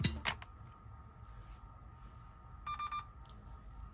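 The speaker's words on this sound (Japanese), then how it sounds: "バッテリーが3セルであることを示す3回のビープ音が鳴ります。" A Kageroh electronic trigger fitted to a Krytac Kriss Vector airsoft gun signals a 3-cell battery with three quick, evenly spaced, high electronic beeps. They sound faint and close in an otherwise quiet room, after a few soft clicks.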